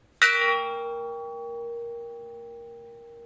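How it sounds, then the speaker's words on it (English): A metal chime struck once rings out with a bright attack, then a long sustained tone with a high-pitched overtone, slowly fading over a few seconds. "So nice chime"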